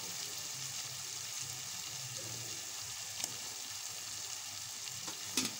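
Green chilies and chopped tomato sautéing in a pan for a village-style fish curry, a continuous soft sizzle with occasional scrapes of stirring, close and alone.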